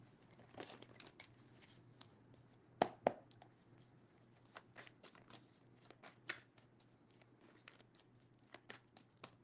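Quiet, close riffling and snapping of cards being shuffled in uneven bursts, with a couple of sharper slaps partway through and no talking.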